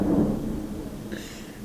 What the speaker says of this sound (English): that was thunder and it's roaring